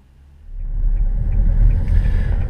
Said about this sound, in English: driving away from the Wandsbek Hospital for the last time